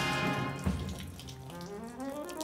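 Liquid pours steadily into a sink, a continuous watery splash that shifts in pitch as the flow changes, heard on its own without speech.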